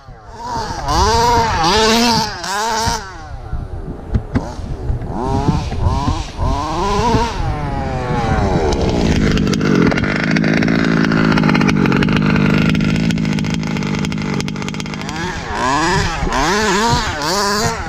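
The small petrol engine of an HPI Baja RC car with an ESP 30.5 motor buzzes loudly and close by. It rises and falls in pitch through repeated revs and stays steadily strong throughout, with no talk over it.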